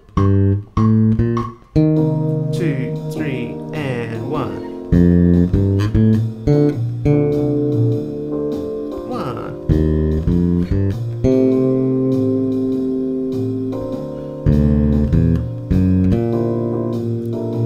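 Electric bass guitar plays a jazz standard as a melody, clear plucked notes in a steady phrased line with sustained tones, played alone without talk.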